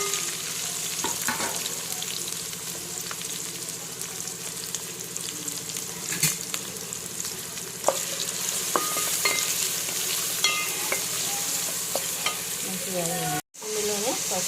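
Onion and green chilli pieces hit hot oil and fry with a bright, steady sizzle, close and continuous, broken by a few clinks of stirring and a brief dropout near the end.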